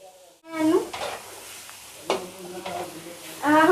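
Soybean chunks fry in a kadhai while a spoon stirs them, giving several scraping strokes over a soft, close sizzle, with a brief quiet before the first stir.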